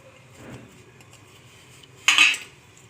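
Egg batter for a bread omelette, with chili powder, garam masala and chopped coriander, is mixed in a bowl, giving a soft scrape followed by a bright clinking of a utensil against the dish, close by.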